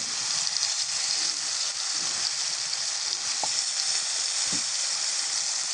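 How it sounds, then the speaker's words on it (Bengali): Spiced eggplant slices rubbed with turmeric, salt and chili paste sizzle loudly and constantly in hot oil on a stove, with a couple of light clinks from stirring. "এটাকে আমি ভাজা করব।"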